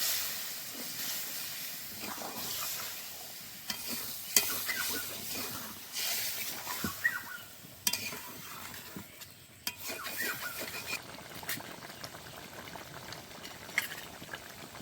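Hot water poured into a frying soybean curry, a loud hiss settling into vigorous bubbling and boiling, with intermittent spoon stirs and taps against the pot, close and continuous throughout.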